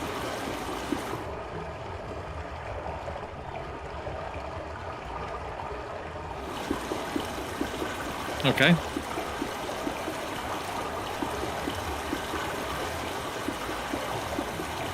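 Water flows steadily down a pipe in the Myst video game, a continuous rushing stream heard close under a brief spoken word and a short clatter.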